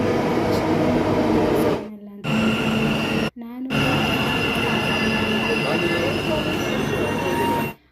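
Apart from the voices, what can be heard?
metro train arriving at station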